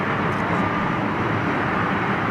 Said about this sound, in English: Got the big blowers going.